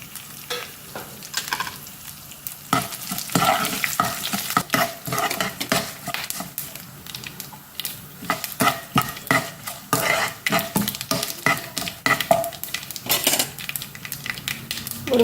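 Urad dal, cumin and dried red chillies crackle and sizzle in hot oil while a utensil scrapes and stirs against the pan in quick, irregular strokes, close and steady with no talking.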